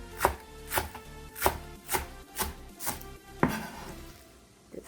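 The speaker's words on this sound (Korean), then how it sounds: "이거를 너무 잘게 썰어도 안 되고 금성금성 썰어주세요" A knife chopping green onions on a board, about eight steady, evenly spaced thuds close by, then a pause as the cutting stops.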